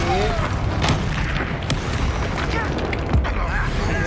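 Bombarda spell explosions in the video game Hogwarts Legacy, booming blasts and crackling impacts over a noisy combat bed against a sentinel enemy, with a voice talking over the action.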